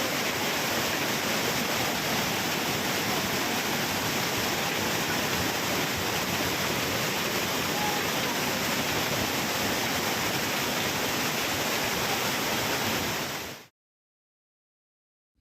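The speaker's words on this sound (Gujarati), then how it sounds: "ખૂણિયા મહાદેવના ખળખળ વહેતા ધોધનો નજારો ખાસ આકર્ષણનું કેન્દ્ર બન્યો છે" Waterfall at Khuniya Mahadev on Pavagadh hill, swollen by heavy rain, pours as a dense, loud, unbroken rush of water that holds steady for about fourteen seconds before cutting out abruptly.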